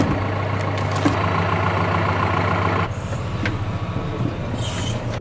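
A farm tractor idles close by with a steady low diesel rumble and a constant drone, the engine note shifting slightly partway through with some faint clatter over it.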